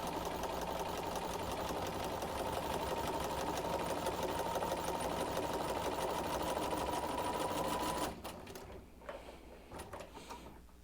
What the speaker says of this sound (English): And I'm going to start stitching. All the way across both of them.